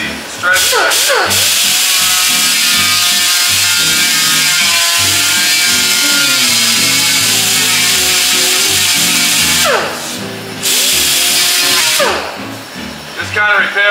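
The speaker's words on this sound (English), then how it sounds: "Now I'm going to go ahead and grind this down." A power grinder working fiberglass during collision repair on a 1934 Ford coupe, a loud sustained high whine with a few brief drops in pitch and pauses where the tool comes off the surface.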